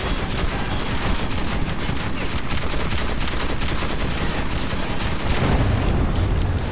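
Sustained automatic gunfire from a gun in Metro 2033, a dense, loud, continuous rattle of rapid shots lasting throughout, with a heavier rumble near the end.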